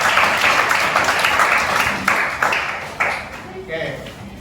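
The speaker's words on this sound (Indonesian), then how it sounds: "Berikan dulu, Nak, aplaus untuk Razik." Classroom applause for a student, a burst of many hands clapping together for a few seconds, fading into scattered claps as the teacher's voice comes in underneath.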